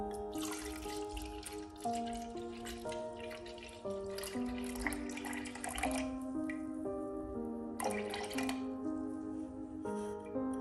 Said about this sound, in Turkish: Hazırladığım zerdeçallı su soğudu. Şimdi bunu süzüyorum.